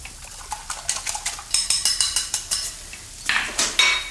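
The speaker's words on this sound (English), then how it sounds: "So whisk these together." Eggs are whisked in a bowl with a small whisk, giving rapid rhythmic metal clicks and taps against the bowl, close and clear, speeding into a burst at the end.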